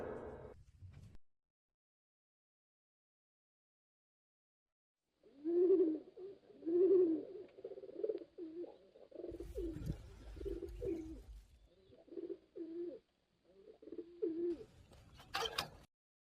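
A pigeon coos in several short, soft phrases after a silent gap, fairly close but quiet, with a brief knock or rustle near the end and no talking.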